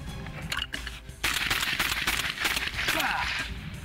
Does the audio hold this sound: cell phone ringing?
no